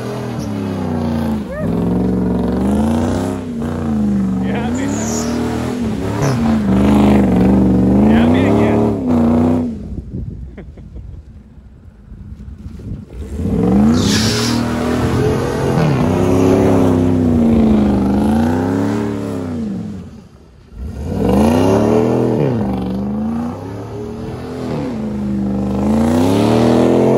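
A Dodge Dakota pickup truck revs hard during burnout donuts, its engine surging and falling in repeated loud, close wails with a short lull in the middle, while voices shout over it.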